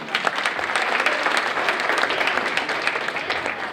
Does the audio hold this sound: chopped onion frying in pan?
no